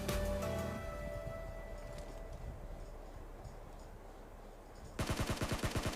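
Gunfire in PUBG Mobile on the Erangle 2.0 map, with a few sharp shots at the start, a quieter stretch, then a rapid automatic burst at the end.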